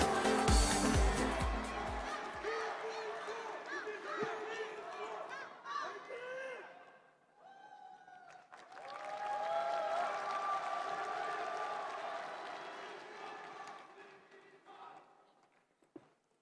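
A crowd at a Democratic Party national convention rally in Incheon applauds and cheers loudly at first, then the noise fades into a murmur of chatter and scattered clapping, rising again later.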